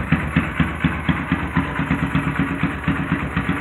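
A cammed Honda Grom motorcycle engine idles close up, not yet fully warmed, with a loud, choppy, lopey pulse of regular exhaust beats throughout.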